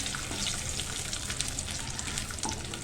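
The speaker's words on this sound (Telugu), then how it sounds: "కొంచెం లైట్గా వేగనిద్దాము." Whole spices and bay leaf frying in hot oil for a masala potato curry, giving a dense, continuous crackling sizzle with quick pops, close and steady, with no voices.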